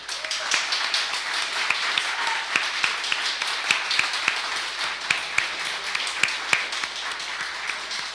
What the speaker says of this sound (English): can I just get a quick round of applause just for B?